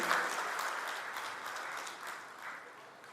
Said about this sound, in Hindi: सभी लोग तालियों से स्वागत करते रहे